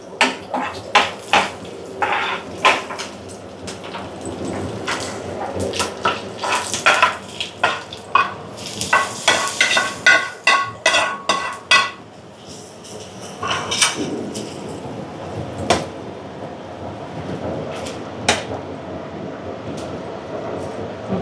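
Fried tempering tipped into gongura chutney and stirred, with repeated clattering of a metal spoon against a pot or bowl in uneven bursts, loud and close, alongside a steady background rumble.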